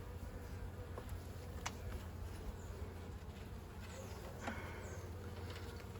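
Honeybees hum steadily around an opened hive during an inspection of brood frames, a quiet continuous buzz with a few faint clicks and knocks from handling the frames.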